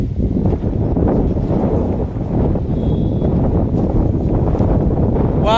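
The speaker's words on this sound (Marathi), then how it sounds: "वारं सुटलंय, भरपूर वारं आहे नुसतं, भर वारं सुटलंय नुसतं" Strong wind blows outdoors and buffets the microphone with a loud, constant roaring rumble that runs the whole time with little letup.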